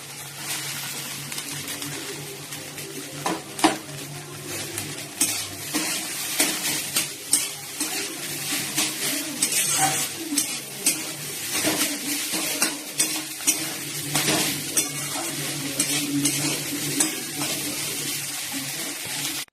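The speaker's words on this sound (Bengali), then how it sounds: "ভেজে নিয়েছি, আলুগুলো দিয়ে দিচ্ছি" Potatoes fry in hot oil and are stirred in a pan in a home kitchen, a steady crackling sizzle broken by repeated scraping and clattering of the spoon against the pan, close and continuous.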